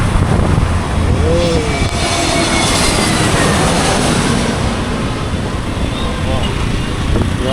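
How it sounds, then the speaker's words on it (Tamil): An airplane flies overhead above a busy street in Parrys, Chennai, making a loud, continuous broad roar that fills the whole stretch while people talk nearby. "அதாங்க ஃப்ளைட் வந்து பாருங்க."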